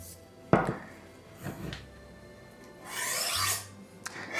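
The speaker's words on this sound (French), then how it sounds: "Et donc là, on va passer le trancheur sur le fusil." A slicing knife is drawn along a honing steel during knife sharpening: a few separate rasping strokes, close and fairly loud, with short pauses between them and no talking.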